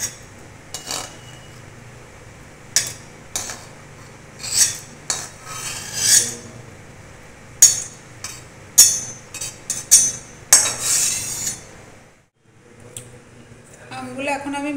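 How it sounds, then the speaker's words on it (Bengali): Cooked raw green mangoes scraped from a metal pot into a bowl make a series of sharp clinks, clatters and scraping strokes, close and irregular, then a short pause and a final rattle. "আমগুলো এখন আমি বাটিতে ঢেলে নিচ্ছি।"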